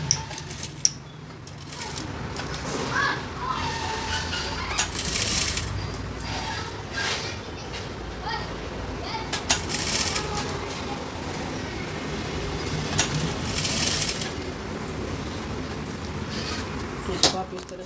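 A sewing machine stitching along the edge of a collar on a garment made from a reused saree, running in a steady mechanical whir with bursts of louder clatter, and a voice talking over it at times.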